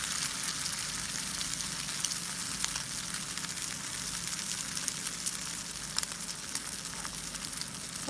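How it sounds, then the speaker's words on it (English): Shami kababs fry in hot oil over medium heat, giving a steady, close sizzle with fine crackling and occasional louder pops, unbroken and with no talking. "you will just fry it with the medium heat only"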